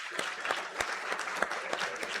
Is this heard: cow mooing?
no